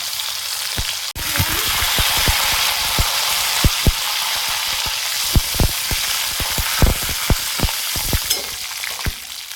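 Cumin seeds and garlic sizzling in hot oil in a pan, a steady loud frying hiss with frequent sharp pops and crackles scattered throughout.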